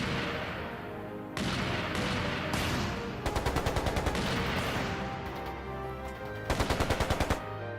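Video game gunfire during an assault in The Legend of Heroes: Trails into Reverie, with sustained booming shots and two rapid machine-gun bursts over a continuous battle din.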